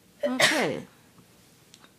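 A single sharp sneeze bursts out, followed by a brief spoken word and quiet room tone with a couple of faint clicks.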